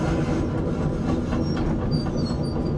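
An excavator's steel tracks squeal and grind in a loud, continuous metallic rumble with scraping overtones, close by throughout.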